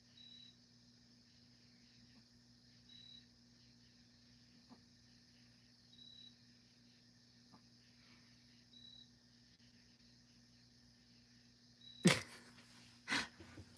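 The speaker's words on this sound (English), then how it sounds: "You can literally hear crickets in the background." Crickets chirp faintly in the background of a quiet indoor setting, short even pulses repeating every few seconds, with a couple of louder knocks near the end.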